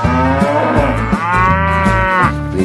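A cow moos several times in a row, loud and close, with deep harmonic lowing calls following one another with barely a pause.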